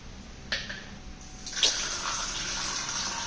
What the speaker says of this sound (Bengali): বেসিনে জল নিয়ে খেলা করছে